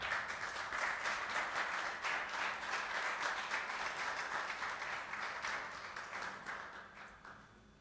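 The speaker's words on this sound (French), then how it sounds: "Sous vos applaudissements, s'il vous plaît." An audience at a poetry lecture claps steadily for several seconds, a dense patter of hands that gradually thins and fades toward the end.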